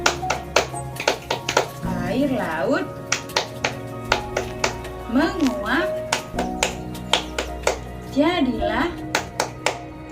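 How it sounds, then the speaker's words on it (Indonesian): Teacher leading a preschool rain-themed clapping rhyme, crisp rhythmic hand claps in a regular pattern close to the mic, interleaved with her sung chanting voice throughout. "Bunda akan mengajarkan tentang tepuk hujan."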